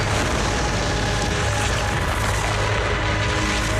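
Loud, steady booming and crackling of fireworks going off in Zenless Zone Zero, a thick wall of rumbling blasts with no pauses.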